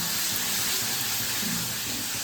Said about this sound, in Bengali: মশলা মোটামুটি কষানো কমপ্লিট হয়ে গেছে, এবার মাটনটা দেবো।